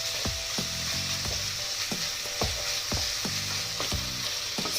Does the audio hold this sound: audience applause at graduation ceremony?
no